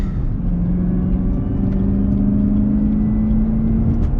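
A 2021 Chevrolet Camaro ZL1 1LE pulls away on throttle, its engine a loud, steady rumbling drone with a tone that climbs gradually as it accelerates.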